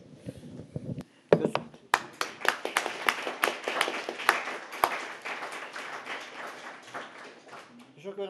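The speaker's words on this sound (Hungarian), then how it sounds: "Szóval adjunk nekik egy tapsot." A café lecture audience gives the speaker a round of applause: after a brief spoken lead-in, scattered claps build into steady, moderately close clapping from a small crowd, tapering at the end.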